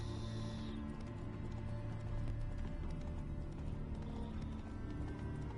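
Roach, the horse in the video game Witcher 3, trots with rhythmic hoof clip-clops under a low, steady ambient drone, with a brief harness jingle at the start.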